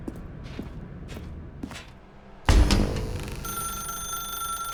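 A telephone rings in the video game The Stanley Parable, a loud bright electronic ring that starts abruptly after a few soft footsteps and keeps going steadily to the end, with no voices.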